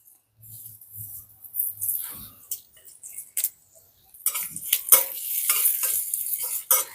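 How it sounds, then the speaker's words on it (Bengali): Mustard seeds and whole cumin go into a spoonful of hot oil for tempering, giving soft sizzling with crackles and light pops that build up and grow denser, close by and with no voices. "এক চামচ সর্ষে আর এক চামচ গোটা জিরে এগুলো আমি ফোড়নে দিয়ে দিচ্ছি"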